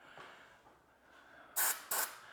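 Two short, loud hissing bursts from an aerosol lubricant spray can, close by, sprayed onto garage door springs, following a quiet stretch of faint background noise.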